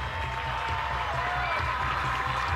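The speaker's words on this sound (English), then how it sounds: "And the crowd roars with approval that she's okay." A stadium crowd at an NCAA college softball game between UCLA and Washington, a steady wash of applause and cheering heard at a distance throughout, with a voice talking over it.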